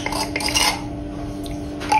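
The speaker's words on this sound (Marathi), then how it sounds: "त्याला छान ढवळायचे" A spoon stirs horse gram curry in a metal pot, giving a couple of light, close scraping and clinking strokes over a quiet kitchen background.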